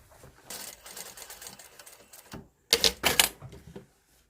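Sewing machine stitching a trouser hem from the outside with a long stitch length, heard as bursts of rapid mechanical clatter, a softer run followed by a louder, closer burst, with no talk.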